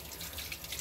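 Water jetting from a small turbine nozzle about 0.181 inches across, a steady, fairly faint hiss of flow that continues without pause and with no talking over it.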